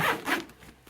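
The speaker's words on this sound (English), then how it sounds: "I attach the wrist strap to all 3 zips" A zipper on a fabric coloured-pencil case, its three zips joined by a wrist strap, is pulled in two quick rasping strokes up close, then fades to quiet.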